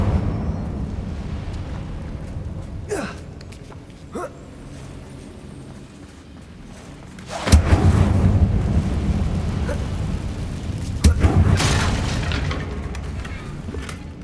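Incendio fire spell in the video game Hogwarts Legacy, a deep booming burst that erupts into a sustained roaring blaze, with a second surge of flame and rumble later, loud and close.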